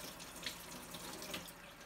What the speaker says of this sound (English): So again, you're going to fill up your jar